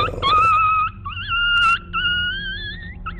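A dog in an animated horror story about village aswang lets out long, wavering whimpering howls, high and close, rising and falling over a low rumbling background with no clear barks.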